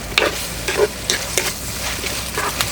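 Sliced onions and curry leaves sizzling in a pan as they brown for a cauliflower and chicken curry, with a constant close hiss and several quick stirring scrapes, no talk.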